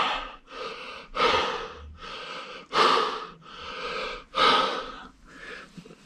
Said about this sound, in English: it's quite difficult to breathe in this sort of mask